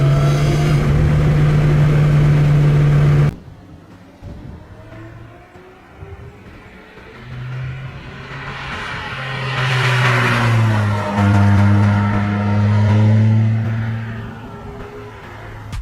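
A supercharged 3.5-liter V6 in a Lotus Exige Cup 380 race car in a Need for Speed game: a loud burst of engine roar cuts off abruptly, then the engine revs and climbs in pitch before settling again.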